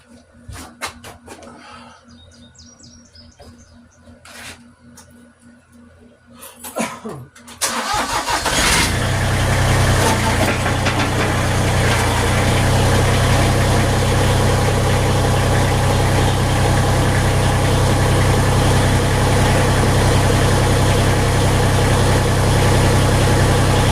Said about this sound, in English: we're going to start the tractor up